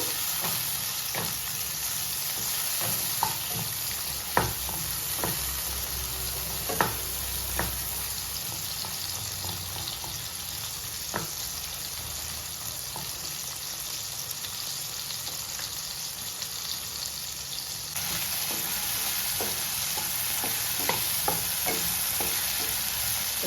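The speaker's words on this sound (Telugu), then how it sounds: "నీళ్ళన్నీ పోయేంత వరకు కొద్దిగా వేయించుకోవాలి చట్నీకి." Onion and peanut chutney mixture frying in a pan as its water cooks off, a steady loud sizzle with faint stirring scrapes and occasional ticks running the whole time.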